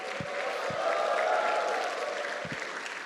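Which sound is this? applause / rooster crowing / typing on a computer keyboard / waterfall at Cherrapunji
applause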